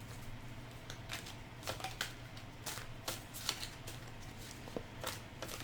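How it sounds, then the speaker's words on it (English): A deck of tarot cards shuffled loosely and sloppily, soft irregular riffling and flicking taps, quiet and close with no talking. "sloppy shuffle"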